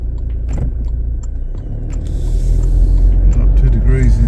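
A car idles in drive while waiting at traffic lights, giving a low, steady engine rumble that swells slightly partway through, with someone talking over it.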